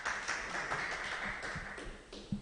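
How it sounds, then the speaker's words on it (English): Applause from a conference audience for presenters at a forestry technology event, a light, fairly sparse patter of clapping fading slightly and then ending. "We can give them a round of applause."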